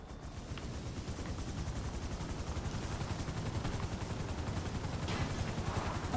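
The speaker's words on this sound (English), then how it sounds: "reversing a helicopter is not exactly an easy thing to do" Helicopter in Grand Theft Auto 5 held close while reversing, its rotor giving a steady rapid chopping thump with a continuous engine whine, loud and unbroken throughout with no talking.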